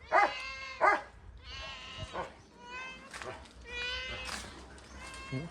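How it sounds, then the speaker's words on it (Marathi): Several cats meow one after another at a farmhouse, close by, with drawn-out cries over low background murmur. "इकडे बाई मांजरी बी आहेत बघ"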